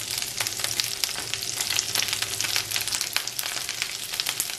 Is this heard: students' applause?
no